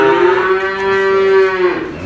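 A single loud, drawn-out moo from a cow on a cattle farm, sounding close and clear with nothing else heard.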